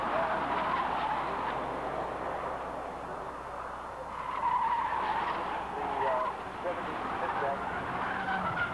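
Showroom Stock A race cars at the 1991 SCCA Runoffs, engines droning steadily while tires squeal and skid, swelling as the cars come close, mixed with track ambience.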